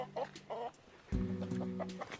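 Backyard chickens let out on a hot day cluck in short, close bursts, a few soft calls followed by a louder run of clucking, with faint background sounds.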